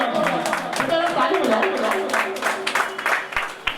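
At a mushaira poetry gathering the audience breaks into scattered clapping beneath a voice and crowd chatter, with a few sharp, close claps standing out toward the end.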